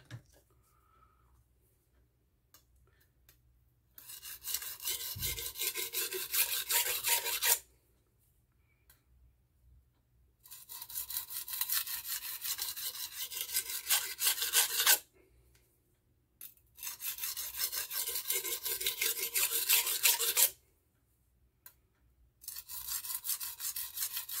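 Henckels 7-inch santoku knife sharpened on a coarse Norton Crystolon 120 grit stone, heard as three long, gritty rasping strokes, each several seconds long and separated by quiet pauses, close and fairly loud.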